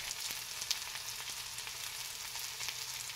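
Onion, tomato and spices sautéing in a pan over a wood-fired village stove, giving a continuous close sizzle with small crackles and no talk.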